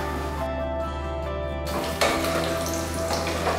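Cashew nuts fry in hot ghee in a pan on the stove, a loud, continuous sizzle and crackle with a brief stir or clatter partway through and no talking.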